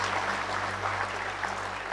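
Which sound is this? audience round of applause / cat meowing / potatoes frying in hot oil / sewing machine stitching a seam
audience round of applause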